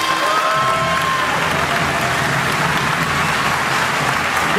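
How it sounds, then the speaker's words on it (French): A large audience at a Chinese martial arts gala claps steadily and continuously throughout, a dense wash of applause. "Je vous demande d'applaudir"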